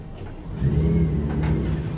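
A boat outboard motor on a 2019 Duckworth 28 runs on the water during a test, a steady low engine drone that swells slightly louder partway through and holds, with no talking.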